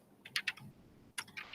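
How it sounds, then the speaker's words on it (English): Quiet typing on a computer keyboard, a few soft clustered keystrokes, a short pause, then another brief burst of keys. "So I'm typing now"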